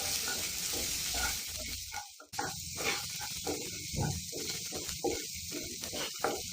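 Cabbage and capsicum stir-fry in a hot pan for fried rice, a loud hiss with scraping spatula strokes and brief gaps between bursts of sizzling.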